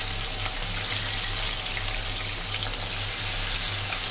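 Small fish frying in hot oil in a home kitchen, a steady, close crackling sizzle that holds unbroken throughout with no talk over it.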